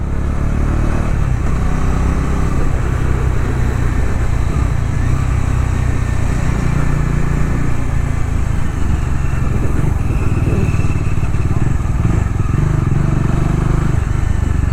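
A Bajaj Dominar 400 motorcycle engine running steadily, a loud, close, continuous rumble with slight fluctuations in pitch, sustained through the whole stretch; the bike has a fault that makes it stall when the clutch is pulled.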